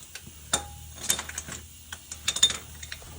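A ratchet with an M8 socket on an engine bolt during a 2.5 L engine swap on a 2012 Volkswagen Passat, giving scattered close metallic clicks and ticks in irregular short bursts.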